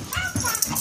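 Dogs whimper and yip in short, high, excited bursts, close by, with a person's voice mixed in among them.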